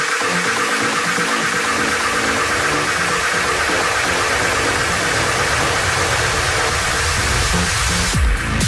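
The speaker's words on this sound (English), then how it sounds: "The 8 front engines roared to life, propelling the KM forward and out of the water." Eight front engines of the 540-ton Soviet KM ekranoplan roaring on takeoff from the water, a loud, continuous droning roar with faint steady tones, ending in a short sharp burst.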